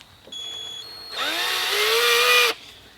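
An old Craftsman power drill runs close up: a faint high beep first, then a loud, steady motor whine that climbs in pitch for over a second before stopping abruptly.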